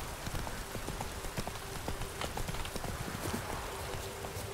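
Roach the horse's hooves clip-clop in a steady rhythm as she rides off-road in The Witcher 3, a close, continuous gait over a low game ambience.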